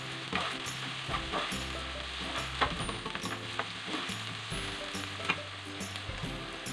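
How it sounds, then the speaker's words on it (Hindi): Chopped onion with garlic and ginger sizzling steadily in a pan for aloo keema, with a spoon scraping and stirring through it in short clicks and scrapes, close and continuous, no voices. "इसको भी इसमें डाल के फ्राई कर लेंगे।"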